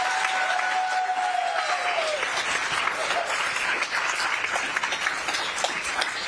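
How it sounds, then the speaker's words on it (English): Sustained applause from an audience at a Seattle city attorney swearing-in ceremony, a dense steady wash of clapping with faint whistles and murmurs running throughout. "Another round of applause."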